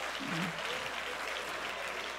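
A church congregation claps in a faint, steady wash of applause that holds evenly for a couple of seconds, with a voice briefly audible near the start.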